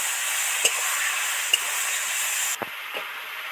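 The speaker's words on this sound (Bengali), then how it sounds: "একটু জল ছড়া দিলে মশলাগুলো ভালো করে ভাজা হয়" Ground cumin, coriander and chilli powder fry in oil with a splash of water over snake gourd, giving a steady close sizzle and hiss with a few sharp spatula taps, and the hiss drops in level near the end.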